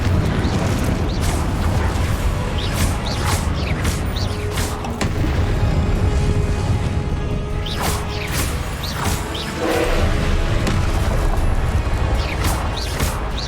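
Repeated fiery spell blasts in Hogwarts Legacy, each a sharp crash or boom, land among the ongoing loud clatter of combat effects.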